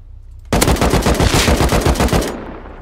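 Rapid automatic gunfire from the survival game Rust, one loud, close, steady burst of about two seconds that then cuts off.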